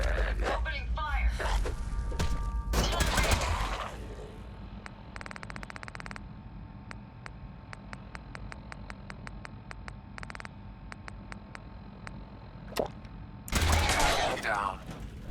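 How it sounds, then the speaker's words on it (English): Gunfire in the video game Fallout 4, with sharp bursts and a long run of rapid, evenly spaced shots at moderate loudness, mixed with people talking at the start and end. "Opening fire!"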